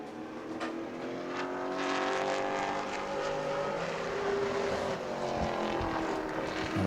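A pro late model race car runs a qualifying lap at New Smyrna, its engine a continuous, loud roar that rises and falls in pitch as it circles the track, heard from a distance.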